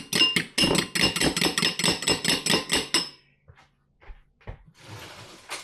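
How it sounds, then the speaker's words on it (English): Eggs being beaten with a utensil in a bowl, a steady rhythm of about a dozen sharp clinking strokes for three seconds, then a pause broken by a few scattered knocks and a soft rustle. "Going to beat the eggs without fanfare today."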